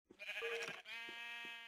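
A sheep in a blocky video game gives one drawn-out wavering bleat, close and clear, with faint low footstep-like thuds beneath it.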